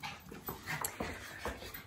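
Dogs pant and whimper close by, a series of short breathy huffs with faint whines mixed in, and no talking over them.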